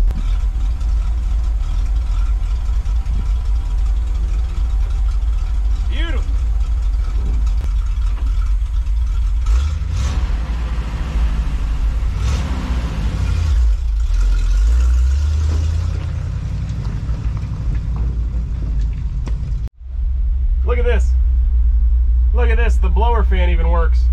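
An old International Loadstar truck, left sitting over 20 years, rumbles loudly and steadily as its engine runs and the truck drives, with people talking over the continuous low drone.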